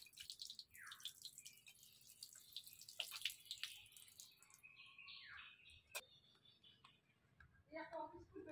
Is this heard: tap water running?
yes